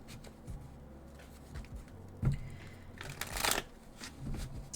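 Tarot cards shuffled and pulled from the deck: soft riffling and sliding with a brief slap and a rustling flurry, close and quiet, no talk.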